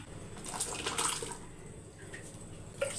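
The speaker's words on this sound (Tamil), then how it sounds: "இப்போ பருப்பை ஊற்றிடலாம்" Cooked dal being poured into a pot of sambar with vegetables, soft wet sloshing and splashing, fairly faint and close, with a few small drips and knocks.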